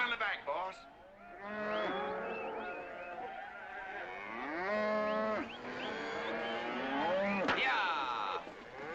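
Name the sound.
cattle mooing in the back of a truck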